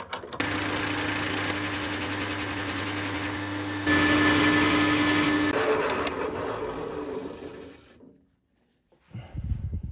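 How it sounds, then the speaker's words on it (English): Small ball nose cutter cutting a groove into the wooden body of a handmade low profile plane, a loud steady machine whir that rises in pitch midway, then winds down into near silence before a short rumble. "Wee ball nose cutter, and we'll start the groove with that."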